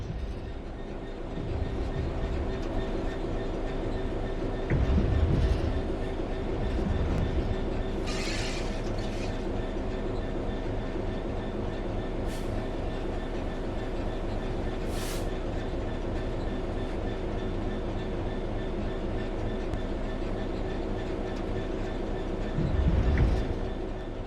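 A simulated train in Train Sim World 3 coasts on level ground with the throttle at zero, giving a steady low rumble of wheels and carriage noise, with a few brief swells and faint high squeals.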